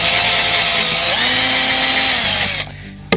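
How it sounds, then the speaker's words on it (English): Power drill boring holes in plywood for a DIY backpack shelf, a loud close whine that strains and drops in pitch as it cuts, then cuts off abruptly. "go ahead and drill some series of holes."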